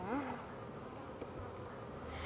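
Honey bees buzz around hive frames during a colony inspection, making a dense, continuous hum of many insects close by with no pauses.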